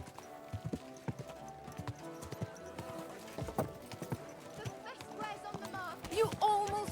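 Hooves clip-clop in a steady, close rhythm as a horse moves in Kingdom Come Deliverance 2, with game ambience underneath and a brief whinny-like tone near the end.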